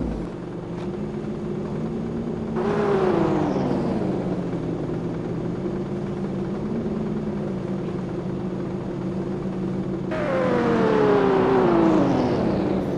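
Honda Civic engine after repair, a steady low rumble with two rising whine sweeps as it pulls away and accelerates, fairly loud and alone without talk.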